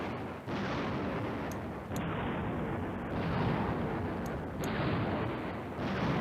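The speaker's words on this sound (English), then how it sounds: "He's bombing on my former place." Artillery bombardment in the World War II strategy game Command Ops 2, set around Nijmegen, heard as a continuous low rumble of distant shelling with a few heavier swells, no voices.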